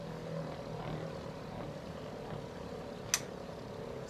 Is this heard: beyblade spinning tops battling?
yes